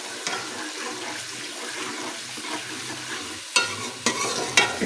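Onion and garlic tempering in desi ghee for sarson ka saag, with steady low sizzling and stirring, a few sharper clatters of a spoon against the pan near the end.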